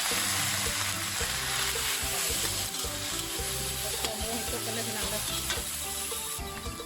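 Pork hits a pan with fried garlic and stir-fries in a continuous dense sizzle with steady scraping of the spatula, close-up and even throughout, with no voices.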